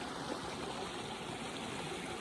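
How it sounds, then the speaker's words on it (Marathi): A clear spring-fed stream runs down out of the forest near a village, its steady broadband rushing and trickling water continuous and fairly close throughout, with no voices. "हे वरतून जंगलातून पाणी येतं"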